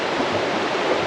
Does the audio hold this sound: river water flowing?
yes